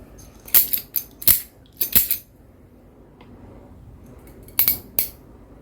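A network cable is snipped to length with crimping-tool or scissor blades before fitting an RJ45 connector: sharp, close metallic clicks in two clusters of three or four quick cuts, with quiet pauses between them and no talking.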